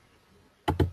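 Two quick, close keystrokes on a computer keyboard while entering a number into an Excel spreadsheet, following near-silence.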